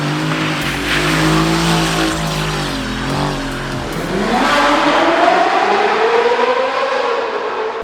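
A boosted Mercedes-Benz car accelerates at full throttle, its engine note loud and close and climbing steadily in pitch through the gears, with a brief tire-squeal-like edge.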